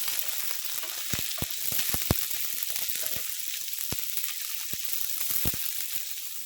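Chopped capsicum and onion fry in a hot pan with a steady, bright sizzle, broken by scattered sharp pops and crackles throughout; no one talks.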